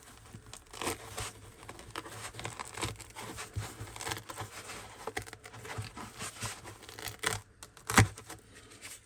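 Cut-out material being peeled back after a scalpel cut, giving soft crinkly tearing rustles through the clip with one sharp louder crackle near the end, close and alone.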